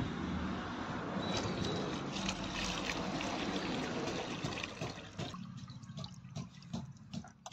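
Wet dough for homemade soya chaap is squeezed by hand while its starchy water pours and trickles into a vessel, a steady close splashing that thins into sparse drips near the end.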